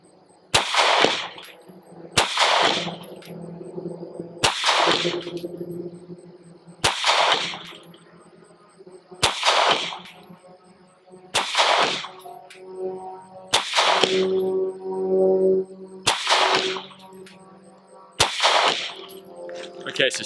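A Sig P365 XL pistol fires during limp-wrist testing, with about nine sharp, loud, close gunshots spaced evenly every two seconds or so. Each shot is followed by a brief decaying ring.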